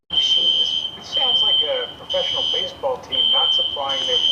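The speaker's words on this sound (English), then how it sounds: "Fire alarm going off at the same time." A fire alarm going off indoors, a shrill high-pitched tone sounding in repeated pulses with short gaps, while a person talks over it.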